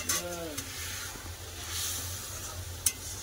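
Water is poured into an egg curry frying in a pan, and it gives a faint, steady sizzle with a few soft clinks and stirring noises.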